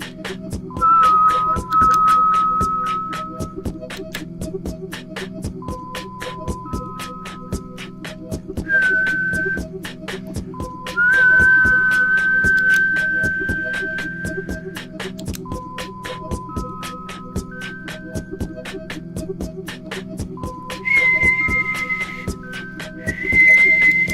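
Clear melodic whistling through a live looper plays in short sustained notes over a repeating looped background pattern of layered tones and steady rhythmic ticks.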